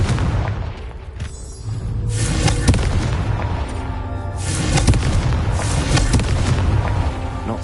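A Confringo fire spell goes off in the video game Hogwarts Legacy, giving loud booming blasts that roll into rumbling, roaring fire and swell again across the stretch, with no talk.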